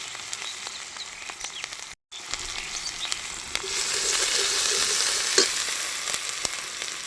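A spice paste of garlic, onion, turmeric, ginger and cumin fries in a pan as it is stirred, with a crackling sizzle, a brief dropout, then a denser hiss and scattered scraping taps.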